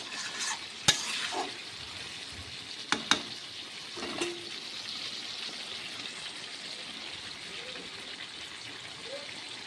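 Potatoes stirred into frying spices in a pan give a low continuous sizzle with a few sharp scrapes and clinks of the spoon, fairly quiet and close.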